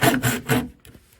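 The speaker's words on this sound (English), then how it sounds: "So I'm gonna just take this little handsaw and just gonna cut through this" A small handsaw cuts through a plastic drain pipe for a wash sink: three quick, close rasping strokes, then a fainter scrape as the cut eases.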